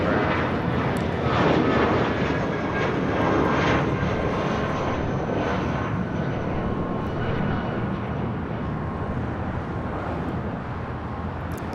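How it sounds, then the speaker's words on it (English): Viva Aerobus airliner taking off at LAX, a loud, sustained jet engine roar heard from nearby, holding steady before easing slightly toward the end. "This is Viva Aerobus 511 taking off to Viva Guadalajara"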